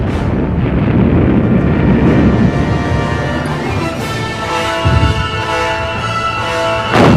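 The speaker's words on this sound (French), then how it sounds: "Vatoutine déclenche avec 600 canons et mortiers une contre-préparation d'artillerie qui va durer plusieurs" A loud, continuous rumbling roar of heavy booms blending together, with deep low-end thunder and crackle throughout, like a sustained distant barrage of 600 artillery guns and mortars at the Battle of Kursk, 1943.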